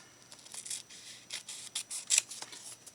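Scissors trimming sewing fabric, a run of soft crisp snips in an irregular rhythm, close and quiet with no talk.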